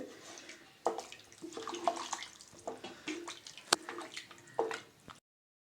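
Water is poured into a pot of mutton kurma, making close splashing and sloshing bursts for about five seconds before it stops abruptly into silence.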